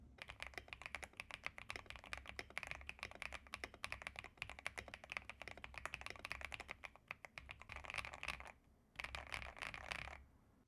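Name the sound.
typing on Ajaz AK820 mechanical keyboard, PE foam, tape mod, Gateron switches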